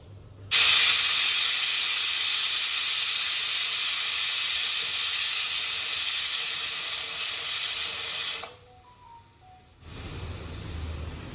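A pressure cooker of bisi bele bath vents a loud, continuous hissing whistle of steam for about eight seconds, then cuts off abruptly, leaving a quieter low rumble of the stove and a brief faint tone.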